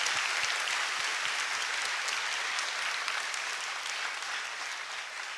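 An audience in a lecture hall gives Dr. Mahathir a thick, continuous round of applause, loud and close from the start and tapering slightly toward the end, with no speech over it.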